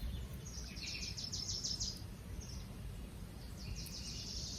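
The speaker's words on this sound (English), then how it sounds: "There's birds chirping." Birds chirp outdoors at a state park in short, high twittering bursts, moderately distant, over a steady low rumble of outdoor background noise with no one talking.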